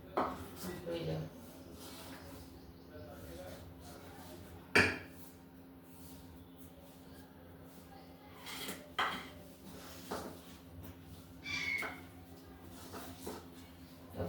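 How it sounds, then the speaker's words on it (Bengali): Batter for snake gourd fry being whisked and mixed in a bowl in a village kitchen: quiet scraping and clinking of a spoon against the bowl, with a few sharper knocks, under a woman's speech. "ভালো করে এটাকে ফেটিয়ে নেবো আর ভালো করে মিশিয়ে নেবো"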